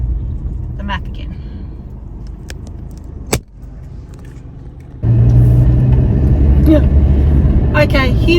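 A car driving along a road between southern Adelaide and Victor Harbor gives a low, steady road rumble with a sharp click partway through, then the engine noise swells louder, with keys jangling and someone speaking over it.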